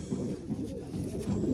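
Long-distance racing pigeons coo up close in a London loft, with low, rolling, repeated throaty calls over a steady background.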